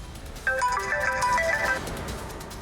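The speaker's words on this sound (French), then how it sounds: "allez, répondez à votre téléphone." A telephone ringtone plays a short melodic electronic tune of bright repeating notes for about a second and a half, moderately loud over quiet room tone.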